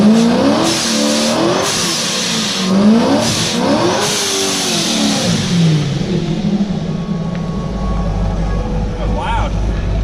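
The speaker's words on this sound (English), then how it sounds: "All right, I'll do a little burnout." A Corvette C7 with a ProCharger supercharger doing a burnout, its engine revving up and down in several loud pulses with supercharger whine, then settling into a rumbling idle, close and loud.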